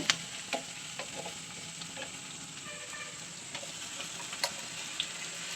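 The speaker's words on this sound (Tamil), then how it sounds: "இஞ்சி பூண்டு போட்டு ஒரு ரெண்டு நிமிஷம் வந்து வதக்கிட்டு மசாலா ஊற்றிடுங்க" Ginger, garlic and masala sauté in a pan for egg gravy, a soft continuous sizzle with occasional stirring clinks and scrapes, close and steady with no talking.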